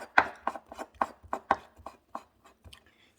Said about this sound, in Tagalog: hiwain na natin ng maliit to.